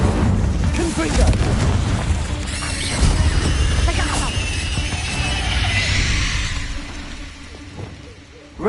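Confringo spell explosion in the Hogwarts Legacy video game: a loud, sustained booming blast with crashing debris that rumbles on for several seconds before fading, with a voice heard briefly amid the noise.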